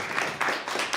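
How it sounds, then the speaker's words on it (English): An audience at a live event gives a big round of applause for Chapel FM. A brief, continuous wash of many clapping hands swells and holds, fairly loud and close. "let's have a big round of applause for Chapel FM itself"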